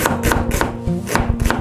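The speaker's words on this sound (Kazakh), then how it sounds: "Енді пиязымызды кесеміз" A knife chops onions on a board for kuyrdak, landing several crisp, close, evenly spaced strikes in quick rhythm with no voices.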